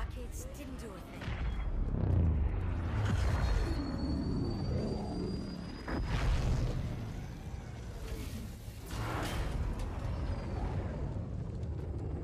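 Tank and battlefield noise from the Halo 2 Anniversary video game, a dense rumbling mix of explosive booms and gunfire that swells and recedes over several seconds, with a voice speaking faintly beneath it.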